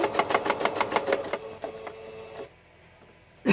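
A sewing machine stitches a folded, pinned trouser hem in a fast run of rhythmic mechanical clatter, close by, then slows with a few last stitches and stops.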